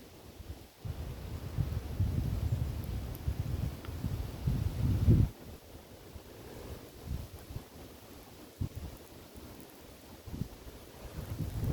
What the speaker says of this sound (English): the wind is really helping us out here